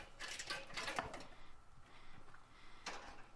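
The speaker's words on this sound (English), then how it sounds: "go back and tighten the screws" Screws being tightened into a galvanized steel raised garden bed, a series of short metallic clicking and ratcheting bursts with brief pauses between them, close and fairly quiet with no talking.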